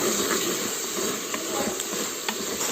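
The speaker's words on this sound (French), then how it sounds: "J'ai mis de l'eau à bouillir." Water heating in a pot on a home stove before rice is added, giving a steady loud hiss with faint bubbling throughout.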